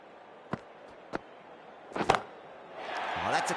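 A cricket bat strikes the ball with a front-foot shot in an India vs Sri Lanka Asia Cup T20 match. Sharp isolated knocks are followed by a louder crack and a swelling roar from the crowd.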